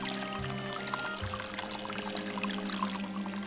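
Water pours and trickles off a mass of pondweed lifted out of a garden pond, a continuous close splashing and dribbling sound with faint low background tones.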